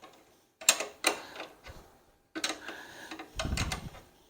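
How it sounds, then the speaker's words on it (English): A wrench tightens the bolts on a 25-inch McLane 7-blade GR series reel mower, giving several short, close metallic ratcheting bursts separated by pauses, with no talk. "Now I'm going to come around to the other side and tighten those bolts."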